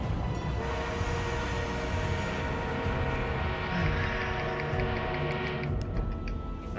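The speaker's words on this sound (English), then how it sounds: "We are being reinforced with an armored train." Armored train in the video game Battlefield 1, a heavy, sustained rumble with droning mechanical tones and light ticking clatter, loud and continuous throughout.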